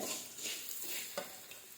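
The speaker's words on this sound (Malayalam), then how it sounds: "ഇനി എല്ലാം കൂടി നന്നായിട്ട് വീണ്ടും ചൂടാക്കിയിട്ടുണ്ട്" A ginger and dates pickle mixture is stirred in a hot pan while it heats. It makes soft, repeated scraping strokes over a faint, steady sizzle, with no talking.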